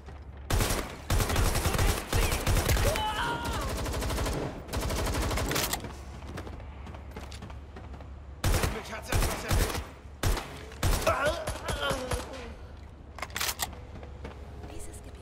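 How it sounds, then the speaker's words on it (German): Bursts of rapid automatic gunfire fired from below in the Watch Dogs Legion game, loud sharp clusters of shots repeating in several volleys with short pauses between them. "Schießen die von unten, oder was?"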